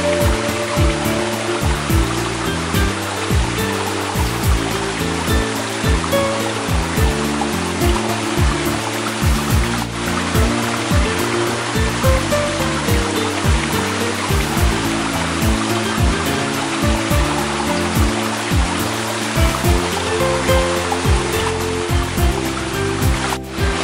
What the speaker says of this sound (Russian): Журчат ручьи.